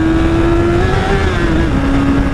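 A Yamaha motorcycle engine revs loudly and steadily at high pitch as a gear shift is missed, with the tone wavering slightly downward, up close and without speech.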